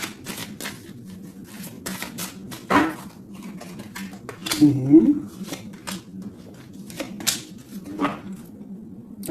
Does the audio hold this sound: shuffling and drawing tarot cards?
yes